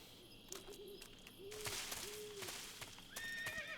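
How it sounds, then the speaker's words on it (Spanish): A horse in the Metal Gear Solid 3 video game neighs in a wavering whinny, repeated several times over soft hoof clip-clops and ambient game sounds, fairly faint and without speech. "¡Ay! Un caballo."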